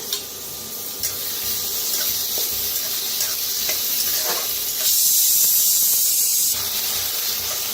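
Chopped onion, curry leaves, crushed green chili and garlic sizzle in a pan while being stirred, a steady hissing fry with scattered pops, swelling into a brighter, louder hiss for a couple of seconds before settling back.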